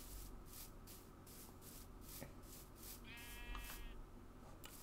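A Minecraft sheep bleats in the game world, heard as a short, faint tonal call under steady background music and ambient noise.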